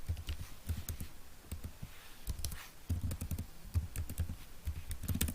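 Keys clatter steadily on a computer keyboard as a name is typed, in quick clusters of clicks broken by short pauses, fairly quiet and close, with no voices.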